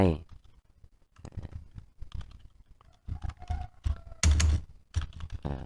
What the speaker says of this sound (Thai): พิมพ์ชื่อของเราลงไป